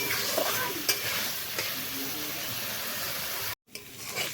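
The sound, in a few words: hilsa fish curry being stirred and fried in pan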